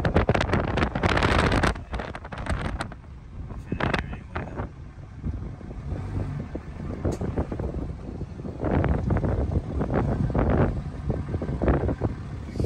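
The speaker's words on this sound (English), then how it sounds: "It's windy, but it's windy." Strong wind at the Little Sahara sand dunes during a group ride weekend buffets the microphone in heavy, uneven gusts with loud rumbling bursts, and people talk briefly in between.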